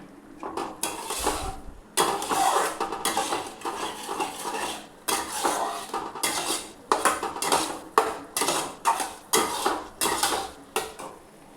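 A spatula scrapes and clatters rhythmically against a pan while onion-garlic spice paste is stirred and fried with a little hot water, repeated metallic strokes roughly every second, close and clear with faint sizzle beneath.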